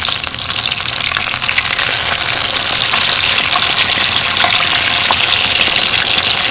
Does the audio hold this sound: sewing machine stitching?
no